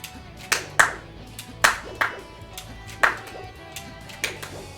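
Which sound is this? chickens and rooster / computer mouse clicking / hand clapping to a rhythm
hand clapping to a rhythm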